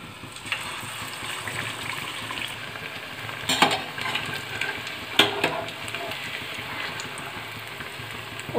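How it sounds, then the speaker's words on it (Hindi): Aloo tikki stuffed with chana dal sizzles steadily in hot oil, a constant crackling hiss with a few sharper clinks and pops partway through, close and with no talking. "अब इसको भी तेल के अंदर डाल देंगे"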